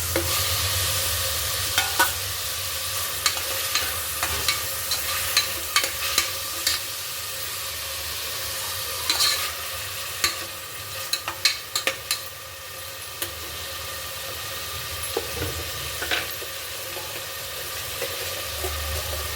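Tomatoes frying with golden roasted onions in a pan for bitter gourd gojju sizzle in a steady hiss, with frequent sharp clicks and scrapes from a spoon stirring the mix, close and continuous with no talking.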